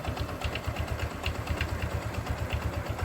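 A motorcycle engine idles close by, a steady low, even chugging with a faint mechanical clatter on top and no revving.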